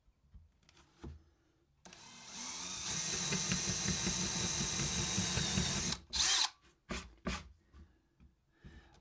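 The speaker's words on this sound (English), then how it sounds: "we'll take my Forstner bit, and it's a 1 inch Forstner bit, and I'm going to drill out a little slot" A 1-inch Forstner bit drills a slot into cedar with a steady, loud power-drill whine lasting about four seconds, then a few sharp knocks and short bursts follow once the cutting stops.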